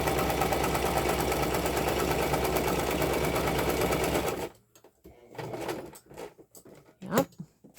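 A sewing machine stitches a zigzag seam with a fast, steady, close mechanical whir for about four seconds. It then stops, leaving faint handling taps and rustles.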